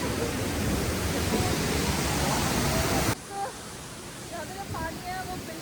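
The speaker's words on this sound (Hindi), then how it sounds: "अभी ना मैं पहुँच गई हूँ कैंपटी वाटरफॉल में।" Kempty Falls near Mussoorie pours in a steady loud broadband rush of water, close and continuous, then the roar drops sharply and continues more quietly while someone talks over it.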